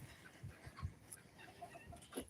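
Marshall the rooster and his hens on a small farm, soft clucks and brief calls scattered quietly over a faint outdoor background, no talking.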